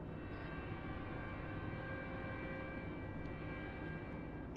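A bomber aircraft droning overhead in the ARMA military video game, a steady, heavy engine roar that holds constant and fairly distant throughout, with no talking.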